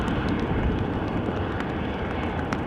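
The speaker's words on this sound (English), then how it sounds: "is going to be this Boeing 737-900 going to Berlin" A Boeing 737-900 jet bound for Berlin at Amsterdam Schiphol Airport in showery weather, giving a steady, loud broadband engine roar that holds throughout.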